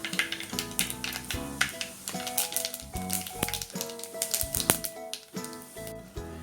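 A quarter teaspoon of fennel seeds hits hot oil in a pan for Kerala-style crab roast. Rapid crackling pops and sharp ticking bursts come close and dense, with no voices.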